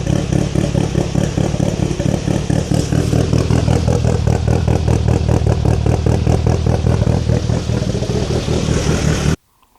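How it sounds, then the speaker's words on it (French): Race car engine fitted with Crower stage 3 cams (2.76 intake and exhaust) and a turbo, idling with a loud, steady lumpy choppy pulse close up, cutting off abruptly near the end. "Fait qu'on a un beau son camé au idle."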